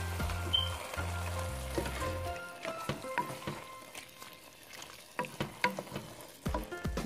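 Crushed tomatoes stirred into a hot pan during home cooking, giving a steady sizzle with scraping stir strokes and sharp clacks of the utensil against the pan, close and continuous with no talking.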